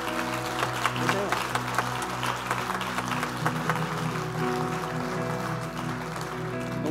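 Church congregation clapping and applauding, a dense patter of many hands lasting several seconds under a steady sustained music tone, fading toward the end.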